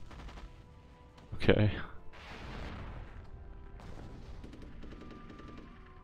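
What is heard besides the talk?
mortar artillery fire in Rise of Nations video game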